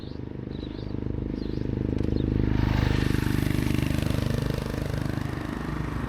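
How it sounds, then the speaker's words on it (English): Motorcycles pass on a dusty road in Nyabohanse, their engines droning loudly and swelling as they go by, with wind noise across the recording. "More bikes here."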